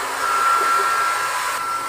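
A hair dryer blower runs steadily for two seconds, a close, loud continuous whooshing hiss with a faint whine, alone without talk.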